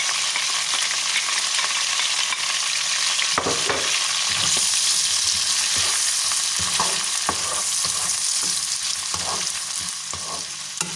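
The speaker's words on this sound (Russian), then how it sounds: "Колбаски поджарились, теперь добавляю лук, морковь" Onion, carrot and pepper frying with browned sausages in a pan, a loud continuous sizzle broken by clacking stirring strikes, close and with no talking.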